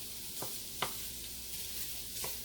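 Meat browns in a pan on the stove, a faint steady sizzle broken by a few soft scraping stirs, close but quiet with no voices.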